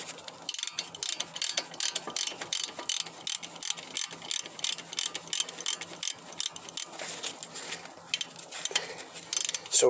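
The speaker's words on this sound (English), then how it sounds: "Now we're going to go ahead and tighten these up." Ratchet wrench clicking in rapid bursts while tightening caliper bolts during a brake pad replacement on a 2007 Ford Edge, close and moderately loud with brief pauses between strokes.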